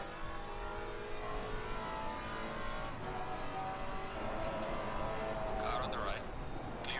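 A Maserati GT4 race car in Assetto Corsa Competizione hums steadily at mid revs, then the engine pitch climbs as it accelerates, with someone talking over the engine noise.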